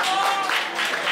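An audience breaks into applause for a singer at a live show, a short burst of crowd clapping in swells.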